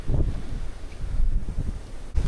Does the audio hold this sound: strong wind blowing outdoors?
yes